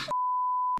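A single steady electronic beep tone holds for most of a second, loud and alone. Brief bursts of other sound sit at its start and end.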